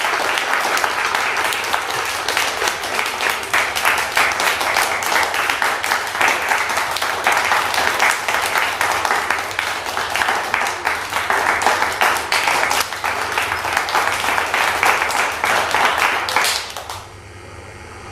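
Sustained audience applause fills a hall at a Tamil book release ceremony in Chennai, steady dense clapping from many hands for about seventeen seconds before it cuts off abruptly near the end.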